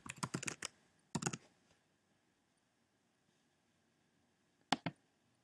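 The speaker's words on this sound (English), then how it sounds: "going to type in our username." Quick bursts of keystrokes on a computer keyboard while typing a username, a rapid cluster followed by a shorter one, then a pause and a final pair of clicks, close and fairly quiet with no talking.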